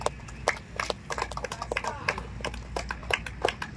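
Applause for Hiralal Mendis at a cricket match award ceremony, with scattered claps rising and falling across a small outdoor crowd, moderately loud, with faint voices underneath.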